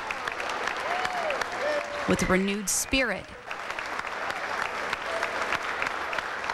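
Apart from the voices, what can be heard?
applause, standing ovation for returning veterans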